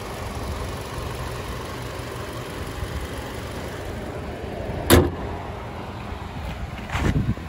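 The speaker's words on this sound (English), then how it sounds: "This is the engine bay, 4-cylinder." A 4-cylinder engine in a 2013 Hyundai Elantra GLS idles with a steady low rumble, close by, broken by two brief sharp knocks or clunks near the end.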